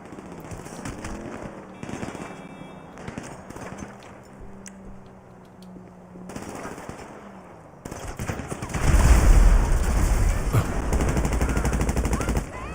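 Automatic gunfire in GTA 5 Online as a car tire is shot out, rapid crackling bursts that swell into a dense, loud barrage in the latter half after a quieter stretch of scattered shots and ambient sound.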